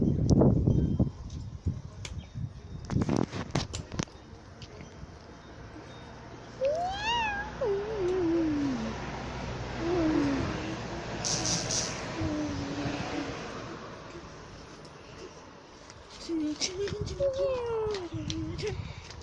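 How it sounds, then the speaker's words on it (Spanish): A playful kitten gives several drawn-out meows with rising and falling pitch. Rustling and handling noises sound close by, and someone talks in Spanish in the background. "el gatito más kawaii"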